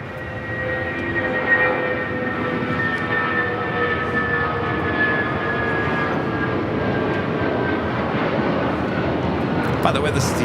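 China Eastern Airlines jet in CIIE livery taxiing and turning at LAX, a steady engine rumble with a whining tonal hum that stays even throughout, with people talking over it.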